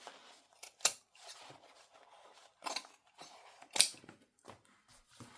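Scissors snip through fabric pieces being cut for a patchwork soft journal cover, with several separate crisp cuts spaced out across the stretch, close and fairly quiet, with no talking.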